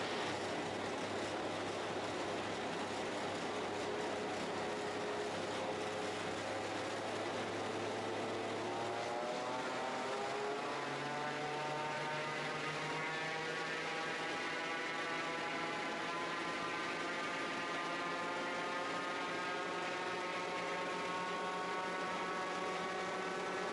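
The Raptor prototype's engine runs under load with a steady mechanical drone; after about nine seconds its pitch climbs and settles into a higher, layered whine that holds to the end.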